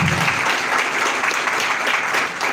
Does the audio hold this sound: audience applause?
yes